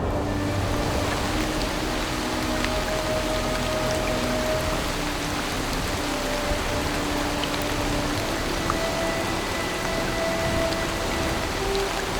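Steady, heavy winter rain pours down continuously in the Peak District, a dense hiss of drops on surfaces with faint scattered patters, no voices.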